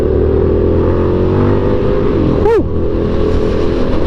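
An Indian FTR1200 motorcycle with a tuned aftermarket exhaust drones loudly and steadily at speed, and a brief rising whoosh cuts through midway.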